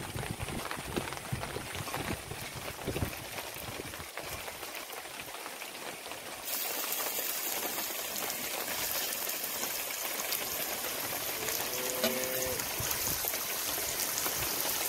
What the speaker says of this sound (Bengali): এবার মাংসগুলো কিছুক্ষণ ভেজে নেব।